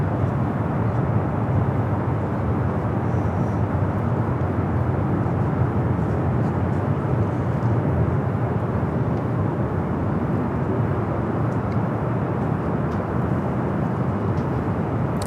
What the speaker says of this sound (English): the Korean Air Cargo 777 now crossing over 24 left